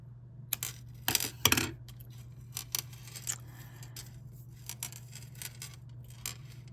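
Scissors cut through a thrift-store pearl bracelet, a few crisp metallic snips and clinks near the start followed by scattered small taps and beads rattling, quiet and close, without speech.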